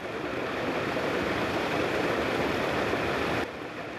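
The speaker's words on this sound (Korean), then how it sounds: "졸졸 흐르던 골짜기의 물은 이미 흙탕물이 되어 쏟아져 내리는 생환훈련장." A muddy mountain-valley stream swollen by heavy rain at a military survival training ground roars as a dense, steady rush of water, loud and close, then drops slightly in level near the end, with no voices.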